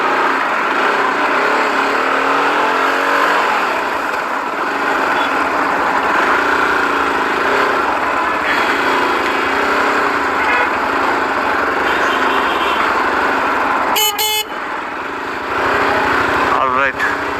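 A GPX Demon 250R motorcycle engine runs steadily and loudly throughout, its revs rising and falling on a highway ride, with wind noise and brief rider talk over it.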